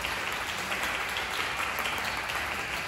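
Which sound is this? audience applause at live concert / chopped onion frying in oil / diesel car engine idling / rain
audience applause at live concert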